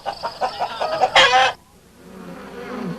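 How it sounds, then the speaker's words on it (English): Hens cluck and squawk at close range on a farm in early Canada, a run of rapid clucks followed by a loud flustered burst, then a quieter low murmur. "He didn't like collecting eggs. The hens were too fierce."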